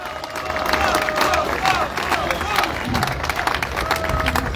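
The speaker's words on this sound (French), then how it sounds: "Il mérite d'être applaudi, c'est un sacré monument, ce Polo." An audience applauds after a president's speech at an aïoli gathering, with dense, steady clapping and crowd murmur that stays loud for the whole stretch.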